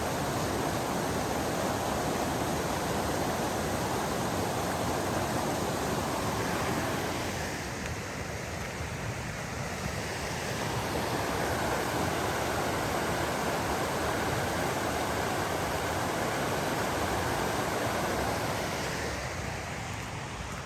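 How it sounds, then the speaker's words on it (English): Small cascading waterfalls tumble over mossy rocks at a mountain creek campground, a steady, broad rushing of water that continues without pause, with a slight dip and swell in loudness midway. "These little cascading waterfalls, very beautiful."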